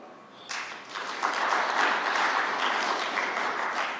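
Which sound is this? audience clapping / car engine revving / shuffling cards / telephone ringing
audience clapping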